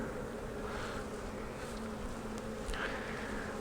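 Honeybees buzz steadily from an opened nuc hive during a beekeeping split inspection, a dense, continuous drone close to the microphone with occasional louder passes of single bees.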